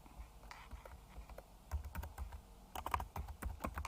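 Keys clatter on a computer keyboard while entering text into a flowchart program, with quiet, irregular taps at first that grow into denser, louder bursts of close typing with no one talking.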